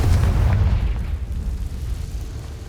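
A Confringo blast spell goes off in Hogwarts Legacy, a loud deep explosive boom that rumbles and fades over a couple of seconds, with no voices.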